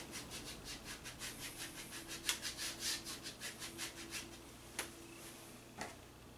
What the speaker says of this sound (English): get a little bit more of the phthalo blue and just scrub it in here.